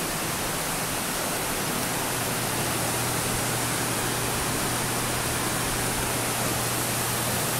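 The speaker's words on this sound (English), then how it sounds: "As you can hear out here, waterfall." A waterfall heard from a hotel room balcony in Kona, Hawaii, gives a continuous broadband rushing hiss, steady and unchanging, with no voices.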